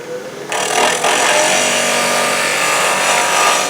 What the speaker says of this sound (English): I'm going to go with the spindle gouge.